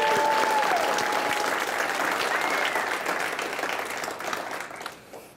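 Applause from a TEDx audience at Amana Academy, dense clapping that starts loud and gradually thins and fades away near the end.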